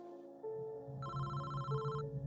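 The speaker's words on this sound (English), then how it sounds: "About a minute later, I got a phone call." A telephone rings quietly in a radio drama, electronic tones sustained over a low rhythmic hum, with no voices.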